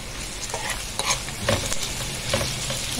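Chicken fries in melted ghee in a pan, crackling with a steady close sizzle broken by occasional stirring scrapes.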